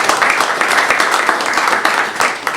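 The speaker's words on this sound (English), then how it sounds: "Can we clap this time?" An audience at an education and culture committee meeting breaks into dense, close applause, many hands clapping at once for a couple of seconds before it starts to thin.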